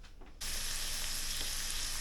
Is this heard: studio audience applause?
no